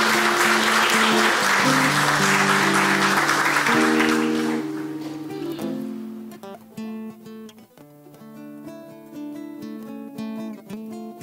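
Applause breaks out in a Botucatu city council session honouring a local woman: a loud wash of clapping over sustained music, then the clapping fades and the music carries on alone.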